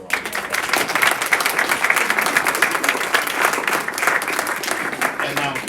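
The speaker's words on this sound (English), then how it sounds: "I think we need to give her a round of applause." An audience gives a dense, sustained round of applause in a hall, loud and continuous for several seconds, with a few voices mixed into the clapping.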